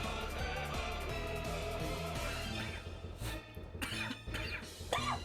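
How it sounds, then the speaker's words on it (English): A person coughs repeatedly while playing the video game Final Fantasy XIV, the harsh coughs sitting over the game's steady music and sound effects, close and fairly loud near the end. "Drinking something always calms down my cough a little bit."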